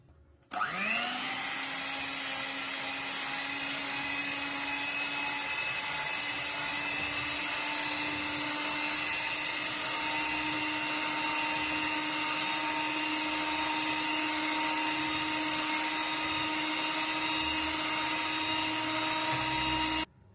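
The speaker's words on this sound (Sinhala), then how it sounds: "ඉතින් මම කන්ඩෙන්ස් මිල්ක් ටිකත් එකතු කරගෙන මේ ටික ආපහු බීට් කරගන්නවා." Electric mixer beating whipped cream with condensed milk for strawberry ice cream, a steady high-pitched motor whine that spins up at the start and runs continuously and loud for about twenty seconds, then cuts off, with no talking.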